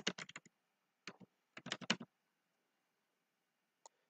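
Computer keyboard typing while entering labels into a PowerPoint chart: a quick burst of key clicks, a short pause, then another rapid cluster, silence, and a single faint tap near the end, close and clean.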